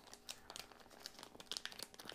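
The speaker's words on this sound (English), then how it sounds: "oh man, the bag just ripped open" Thin plastic bait bag being torn and crinkled open, a soft-lure package handled close up, giving a quiet run of scattered crackles and rustles over about two seconds with no talking.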